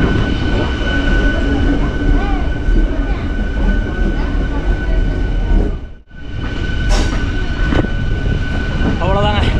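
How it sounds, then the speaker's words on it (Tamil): A passenger train departing Mettupalayam railway station rumbles steadily along the rails, with a brief dip before the heavy running noise returns and a few squeals rise over it. "கிளம்பியாச்சு மேட்டுப்பாளையம் ரயில்வே ஸ்டேஷன்லேருந்து"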